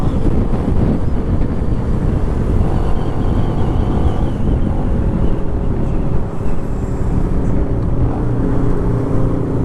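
A vehicle engine roars loudly and steadily as it passes on a paved road near Prambanan, Central Java, with heavy wind buffeting the microphone.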